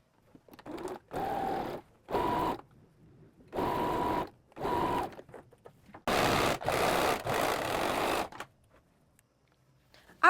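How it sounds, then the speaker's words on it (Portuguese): Straight-stitch sewing machine running through fabric in repeated short bursts of stitching, separated by pauses with faint handling and rustling, fairly close and with no talk. "Eu vou fazer a máquina reta e depois overlock."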